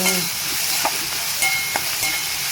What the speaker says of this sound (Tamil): இந்த வெங்காயம் போட்ட கையோட தேவையான அளவு உப்பு சேர்த்துட்டு இதை நல்லா ஃப்ரை பண்ணணும்